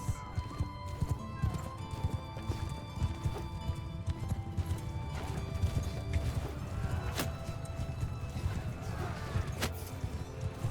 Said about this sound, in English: Horsemen, cavalry!